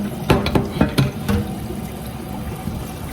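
Fresh peas rinsed under running water, with a steady wash of flowing water and a few louder splashes and clunks near the start as they are handled in a pot.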